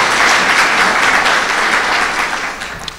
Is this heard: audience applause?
yes